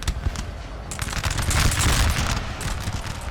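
Massed infantry musket volleys in the battle game Napoleon Total War, a dense crackling roll of gunfire that swells and holds loud, overlapping into a continuous rattle.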